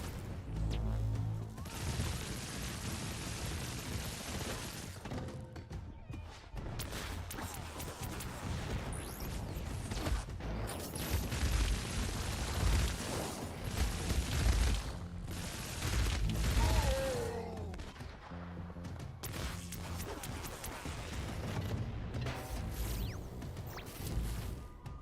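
Explosions, crashes and bursts of rapid gunfire fill a dense, loud action battle in the video game Infamous Second Son, with whooshes and impacts running continuously and no clear talk over them.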